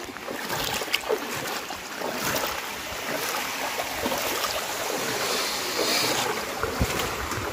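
Floodwater spreading around a village club and Kali and Shiva temples, heard as a steady broadband wash of water with wind buffeting the microphone, loud and continuous throughout with no voices.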